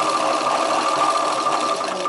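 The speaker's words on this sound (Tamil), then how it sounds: "இதுலேயே வந்து இன்னொரு கால் இன்ச்சுக்கு விட்டு நீங்கள் தையல் போட்டுக்கோங்க" A sewing machine runs continuously while stitching a chudidar sleeve, producing a loud, steady mechanical whir throughout.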